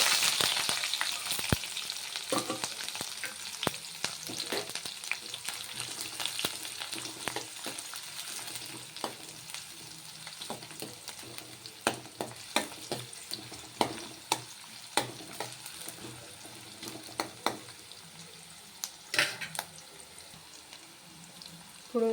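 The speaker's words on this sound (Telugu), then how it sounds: "నెక్స్ట్ ఇందులోకి ఆనియన్ పచ్చిమిర్చి యాడ్ చేసుకోండి." Onions and green chillies frying in hot oil with cumin and mustard seeds for puffed-rice upma, a steady sizzle broken by repeated sharp crackles and stirring clicks, close and without talk.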